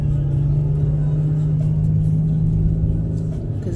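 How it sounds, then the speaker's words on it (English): A passing car with a small, lawnmower-like engine gives a loud, steady, low droning hum that holds close and even throughout, with no talk. "it sounds like it got a Yugo motor in it"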